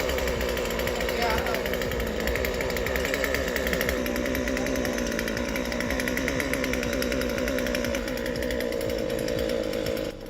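A chainsaw runs continuously at a steady, rough high pitch, loud and close throughout.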